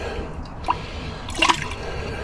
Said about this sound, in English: So I'm just going to give it a good rinse.